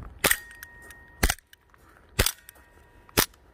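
Sarsılmaz SAR 9 pistol firing four sharp, loud shots at roughly one-second intervals, each a crisp crack with a short tail, and quiet gaps between them.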